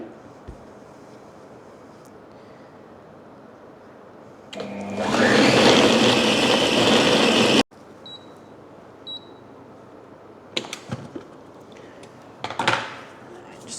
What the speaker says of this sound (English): So I've got everything else in the food processor ready to be pulverized, and I'm going to do that now.